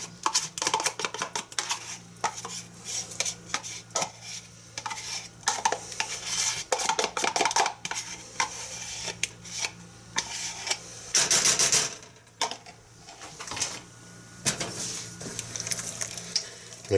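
Spoon stirring sour cream into a mixture in a bowl, repeated clinking and scraping strokes against the dish in irregular bursts, close and clear.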